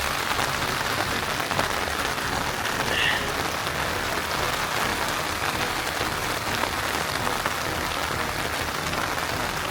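Steady heavy rain drums on a tent during a wild storm, a dense continuous hiss that stays loud and even throughout, with no voices.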